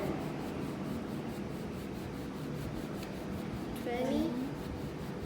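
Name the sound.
rubbing a handkerchief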